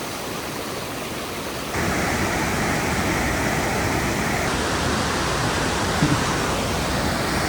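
A raging river near Horsetail Falls rushes loudly and continuously as a broad, steady roar of water, growing louder partway through with no voices.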